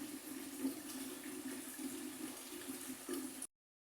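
Water poured from a jug into a pot of falsa berries and sugar, a steady quiet splashing stream lasting about three and a half seconds, then stopping abruptly.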